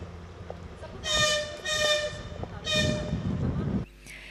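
A passenger train pulls into a railway station platform, sounding two or three loud, sustained horn blasts over steady rail rumble before the noise cuts off sharply.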